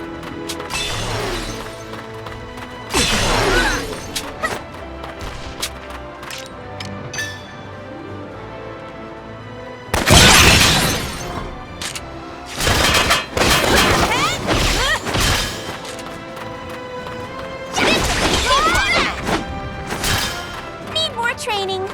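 Gunfire and crashing impacts from the video game Valkyria Revolution, several loud bursts of shots and shattering hits over a music backdrop, with a character voice heard between volleys.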